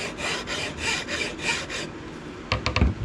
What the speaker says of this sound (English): So I have to be careful filing on this curve.